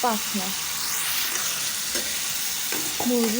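Chicken wings with cauliflower, onion and ground spices such as turmeric, chili and cumin paste sizzle in a pan, a steady close frying hiss with scraping stirs throughout, no talking.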